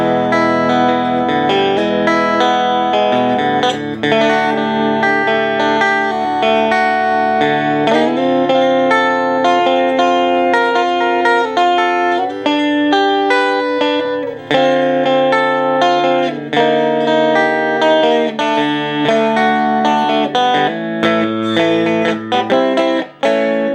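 Electric guitar chords played through a Four Force amp with humbucker and piezo pickups, loud and sustained, the tone breaking up into heavier distortion as the chords are struck harder, heard alone without talk.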